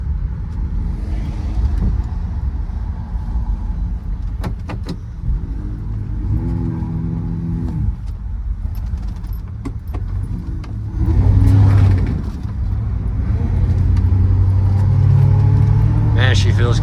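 A Plymouth Belvedere's 383 V8 engine runs and revs from inside the car, a steady low rumble that swells during a stronger pull toward the end, with someone talking over it and some jangling rattles.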